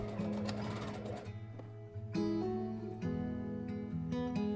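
A sewing machine basting a fabric strip at a half-centimeter seam allowance while making a poop bag holder, giving a steady, close motor whir that shifts pitch a few times and briefly slows near the middle, with no talking.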